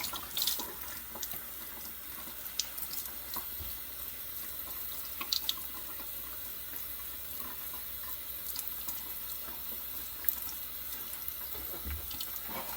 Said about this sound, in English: So now we'll put in like cold water.